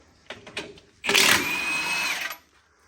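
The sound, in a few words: power tool breaking truck wheel loose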